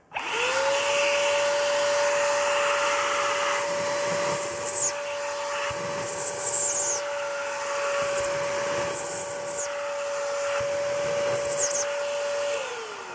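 A Chinese cordless battery-powered vacuum cleaner runs steadily close by with a constant high motor whine, starting up and winding down at the end, while faint scraping and brushing sounds recur as it is moved around.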